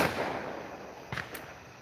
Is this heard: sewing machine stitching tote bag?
no